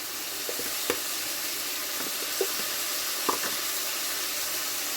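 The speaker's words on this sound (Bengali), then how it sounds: "এবার আমি কষাবো মশলার সঙ্গে সবজিটা।" Vegetables fry with turmeric and cumin powder in a pan, a constant bright sizzle broken by a few soft scrapes of stirring, close and unaccompanied by voices.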